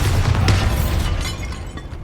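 A Bombarda spell explosion in Hogwarts Legacy sets off a broad rumbling blast that swells, then decays slowly into a low roar, with no voices.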